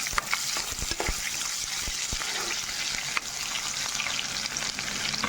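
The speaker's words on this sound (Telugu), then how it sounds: "ఇందులోనే నేను ఉల్లిపాయ ముక్కలు కూడా వేసుకుంటున్నాను." Onion pieces and curry leaves frying in hot oil in a pan, a loud continuous crackling sizzle with scattered sharp pops and stirring scrapes throughout.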